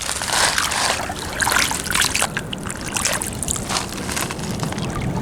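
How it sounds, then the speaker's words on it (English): A clay pipe dug from the Thames foreshore being washed in a small amount of water, with steady close sloshing and trickling as it is rubbed and rinsed. "I'm just going to wash it in this little bit of"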